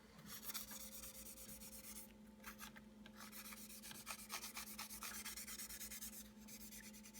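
An oiled sword blade is sanded by hand with 100 grit sandpaper, producing quiet, continuous rhythmic rasping strokes, close up and alone, with no talking.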